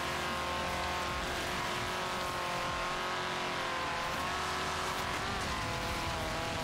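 A Volvo 850R racing car in the video game Forza Horizon 3 keeps up a steady, loud engine drone throughout, with rising and falling pitch as it accelerates, plus faint tire noise.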